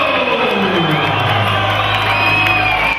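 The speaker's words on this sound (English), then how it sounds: "The crowd are on their feet." A packed stadium crowd cheers, whoops and shouts loudly as a fighter is introduced at a 2015 bout, a dense continuous roar with high yells rising over a low rumble.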